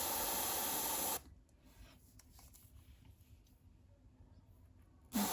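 Airbrush spraying Terminated Stone paint onto a Tzeentch-inspired Archaon miniature: a loud, steady broadband hiss for about a second, a quiet lull, then the spray bursts back in at the very end.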